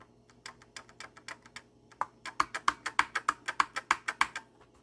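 Keys pressed one at a time on the stiff, aged keyboard of an NEC PC-8801mkIIFR computer, a run of sharp, close plastic clicks, sparse at first, then a quicker, louder, steady burst over a faint background hum.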